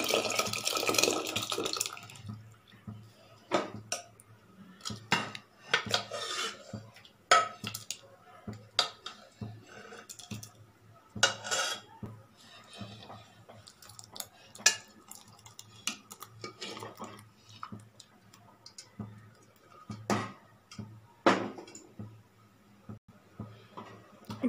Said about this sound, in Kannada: ಈಗ ಇದನ್ನು ತಿರುಕೊಡ್ತಾ ಇದ್ದೀನಿ.